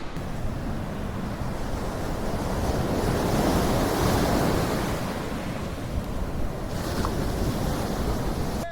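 Ocean waves wash steadily onto a beach in Shimizu, Japan, a continuous broad roar of surf with wind buffeting the microphone and no voices.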